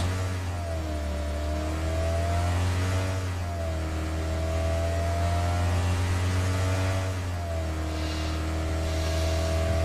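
A video game car engine revs continuously, rising and falling in pitch in smooth surges with a synthetic, even quality, no voices present.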